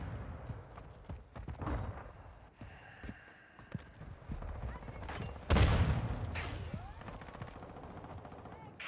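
Gunfire in a Call of Duty Modern Warfare II Ground War match: scattered shots and bursts, near and far, with a loud blast midway and machine-gun rattle, under intermittent voices and radio callouts.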